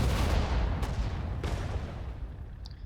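Artillery cannon fire in the World War II strategy game Sudden Strike 4, set in the Battle of France: a dense, rumbling barrage of booming shots rolling together, loud at first and slowly easing off, with no talking.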